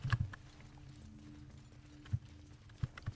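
Horse hooves in the video game Baldur's Gate 3 give a few crisp clip-clop strikes: a quick cluster at the start, then isolated hoofbeats at wide intervals over a steady background hum.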